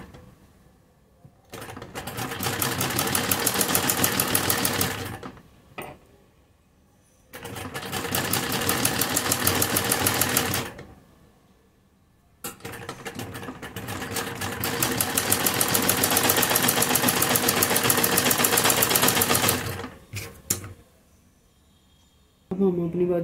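A sewing machine stitches a fabric sleeve in three long bursts of rapid, steady whirring, separated by short pauses, loud and close.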